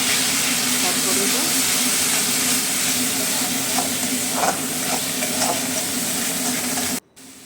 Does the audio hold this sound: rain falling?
no